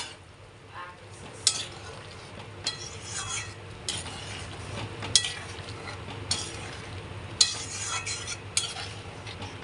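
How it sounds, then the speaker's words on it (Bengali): Fried mourola fish goes into a boiling raw mango curry, giving a soft bubbling simmer with several spoon or ladle clinks against the pan at intervals, close and fairly quiet. "এবারে দিয়ে দিচ্ছি মৌরলা মাছ, ভাজা মৌরলা মাছটা"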